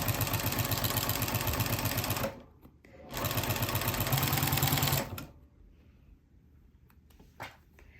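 A sewing machine stitches a vinyl project bag in two loud, steady runs of rapid mechanical chatter, broken by a short pause and followed by quiet handling clicks once the motor stops.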